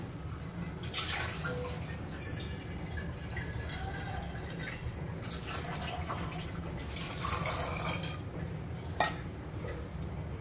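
Water poured into a pressure cooker holding soaked, washed green peas: a steady splashing trickle with brief louder gushes and a small clink near the end, continuous and moderately faint, no talking.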